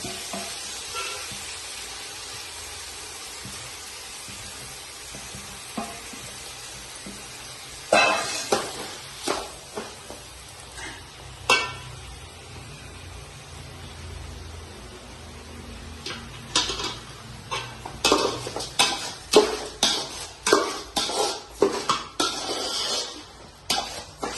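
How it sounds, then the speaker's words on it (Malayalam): Rice roasts in ghee for ghee rice, a soft sizzle with bursts of scraping and stirring against the pan that grow denser and more rhythmic toward the end. "നമുക്ക് അരി ഇട്ട് കൊടുക്കാം. അതൊന്ന് വറുത്തെടുക്കാം."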